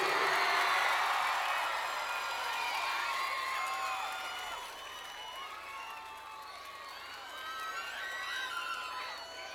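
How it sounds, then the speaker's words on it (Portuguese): An audience at a forró concert applauds and cheers, with whoops and shouts rising over a dense, fairly loud crowd wash that eases slightly midway. "Vamos aplaudir, gente!"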